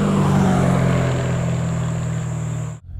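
A Chevrolet Corvette C7 Z06 engine drones loud and close in a steady low rumble, then cuts off abruptly near the end.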